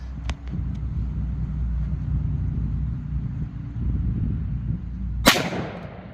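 One sharp, loud report from an SA XDM Elite OSP 3.8-inch 10mm pistol firing hot loads cracks out near the end, after a stretch of low rumbling background and a faint click early on.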